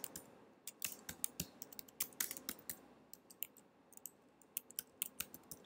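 Rapid, uneven clacking of keys on a computer keyboard, sharp close clicks in bursts with brief pauses, while entering a Tamil translation for Mozilla.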